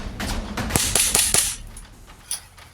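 Several sharp gunshots in quick succession, loud and close, followed by a lone fainter shot after a pause.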